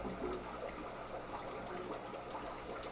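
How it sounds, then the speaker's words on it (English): An aquarium's automatic water change system drains, producing a soft, continuous gurgle and trickle of flowing water, fairly faint and steady throughout without speech. "Candy, that noise is the drain from the auto water change"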